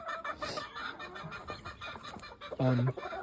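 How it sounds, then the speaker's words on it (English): Yard chickens cluck in short, scattered calls outdoors in winter, with one louder, drawn-out squawk near the end over faint background noise. "I'm just sharing some yard fowl right now"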